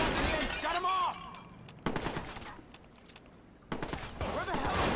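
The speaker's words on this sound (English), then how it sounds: "Shots fired. Shots fired." Bursts of gunfire in the video game Watch Dogs, loud crackling volleys in two or three stretches with shouted voices between and over them.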